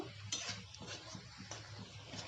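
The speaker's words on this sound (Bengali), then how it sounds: "কিছুক্ষণ এইভাবে কষাতে থাকবো।" Masala with onion, ginger and garlic being stir-fried in a pan: quiet, low sizzling under repeated soft spatula scrapes and light clinks in an uneven rhythm, close but faint.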